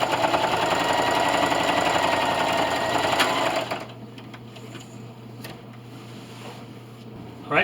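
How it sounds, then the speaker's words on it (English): A sewing machine finishes a seam on a quilt with no binding, running fast and loud in a steady buzzing whir, then dropping abruptly to a slower, quieter chugging as it backstitches. "so don't forget to backstitch."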